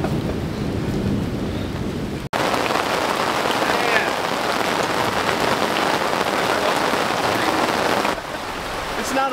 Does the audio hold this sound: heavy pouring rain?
yes